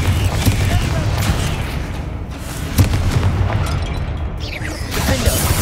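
The Confringo spell in the Hogwarts Legacy video game bursts amid a loud, dense battle din, with deep rumbling booms and sharp pops layered over continuous combat noise and a muffled voice.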